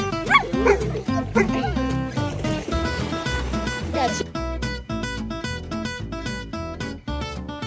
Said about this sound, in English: Look at all these doggies!